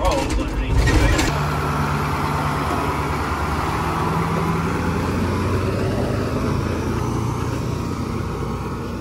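Steady, close drone of a cab-over fire engine's engine while driving, heard from the cab seated above it, with a low hum and road rumble running continuously and some talk over it.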